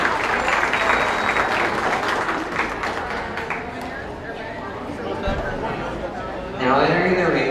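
Steady applause from a crowd at a county beef cattle show, with scattered chatter underneath and a burst of louder clapping near the end.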